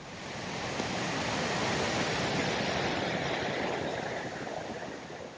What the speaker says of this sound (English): A swollen waterfall had engulfed the final stretch of the path, turning it into a furious torrent.